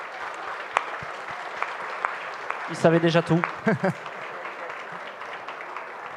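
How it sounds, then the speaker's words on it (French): Applause from a conference audience at a Paris Space Hub astronaut talk, a steady faint patter of many hands with a voice speaking over it briefly. "Vous pouvez vous applaudir."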